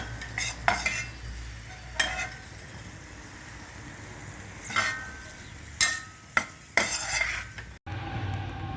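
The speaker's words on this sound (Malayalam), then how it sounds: "ഇപ്പം നമ്മുടെ അണ്ടിപ്പരിപ്പ് മുന്തിരി നല്ലപോലെ റോസ്റ്റായി വന്നിട്ടുണ്ട്. നമുക്കിതൊന്ന് കോരിയെടുക്കാം." Cashews and raisins roasted in ghee are scooped out of the pan with a spoon, giving a handful of sharp metallic scrapes and clinks over a soft, steady sizzle, with no voices.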